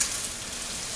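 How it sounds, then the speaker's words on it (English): Fettuccine noodles sizzle and crackle in a hot pan with sauce, a loud, dense, steady hiss close up with no talking. "You can hear it's hot. I'm going to start adding my noodles."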